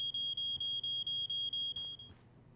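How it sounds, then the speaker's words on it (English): A rapid, steady electronic alarm beeps at a high pitch in Life Is Strange: Before the Storm, repeating in a fast pulsing rhythm and then cutting off with a fading tail. "There goes the alarm."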